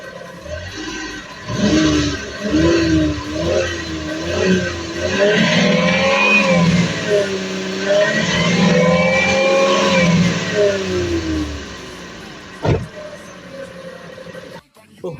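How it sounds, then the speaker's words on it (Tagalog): A family van's engine revs up and down repeatedly at close range, rising and falling in pitch, with someone talking over part of it. "Atos na ning paminaw itong makina be."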